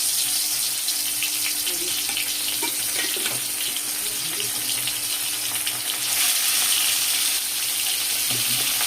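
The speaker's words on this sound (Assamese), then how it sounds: "তেলখিনি গৰম হৈ গৈছে, এতিয়া মাছখিনি মই ধুনীয়াকৈ ভাজি ল'ম দেই।" Fish sizzling as it fries in hot oil in a home kitchen, a continuous bright hiss and crackle running close and steady throughout, with no talking.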